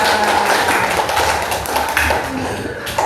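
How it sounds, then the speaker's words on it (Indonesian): Second-grade pupils clap their hands together in an elementary school math class, a quick scattered burst of taps that fills the room at close range. "tepuk tangan untuk kita semuanya"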